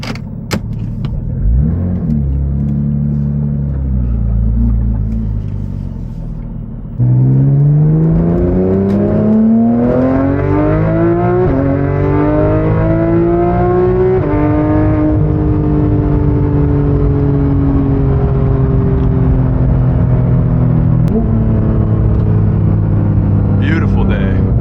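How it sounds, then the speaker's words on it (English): A Porsche GT3 RS with a straight-piped, naturally aspirated flat-six engine, idling and then revving loudly as it pulls away, with rising gear-by-gear acceleration close up, and a person talking over it. "Hard to beat the sound of a straight pipe naturally aspirated flat six too."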